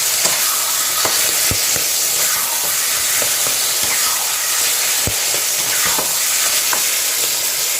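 Kochu shaak (taro leaves) frying in a pan with turmeric and slit green chilies, with a steady close sizzle and repeated scraping stirs clicking through it, no voices.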